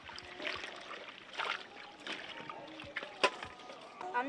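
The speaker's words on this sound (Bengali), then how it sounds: "সবজিগুলো সব ধুয়ে নিচ্ছি।" Fresh garden vegetables being washed in water outdoors at a village picnic, with soft splashing and trickling that comes and goes in a busy, moderately quiet scene, with occasional voices in the background.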